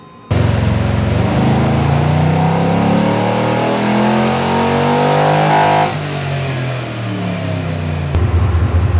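Car engine revving hard on a dyno during a tuning pull, a loud, close, sustained drone climbing steadily in pitch for several seconds, easing off, then holding near the top before a brief drop.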